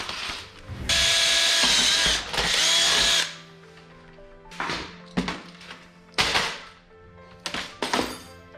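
A deburring bit mounted on a power screwdriver whirs in short bursts as it removes burrs, with two longer runs followed by several brief stop-start spins and quiet gaps between them.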